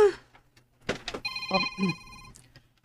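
A telephone rings with an incoming call, a steady electronic ringing tone that sounds once for about a second, set amid room noise and brief voices talking around it.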